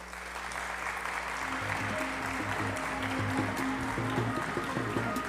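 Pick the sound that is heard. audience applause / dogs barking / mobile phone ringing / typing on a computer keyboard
audience applause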